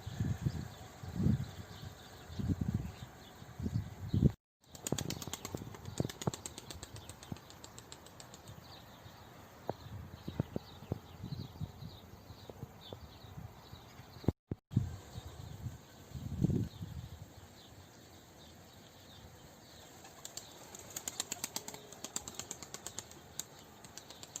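Bursts of pigeon wing flapping come and go as an Ankara tumbler pigeon lands, soft fluttering beats repeated several times, with faint chirps and light tapping in between.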